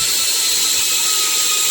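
A Nanwei cordless drill spins a cobalt M42 bit at high speed, a steady loud, bright whine held without pause for the whole short stretch, with no voices over it.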